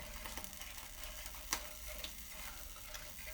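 Soda ash soak crackling and popping faintly as it is stirred, a soft continuous fizz with scattered small ticks and one sharper pop, quiet and close with no talking.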